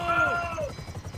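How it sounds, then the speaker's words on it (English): Damaged helicopter in a video game, a low rhythmic rotor chop pulsing steadily underneath a speaking voice that dominates the brief moment. "I have some problems because my helicopter is very damaged"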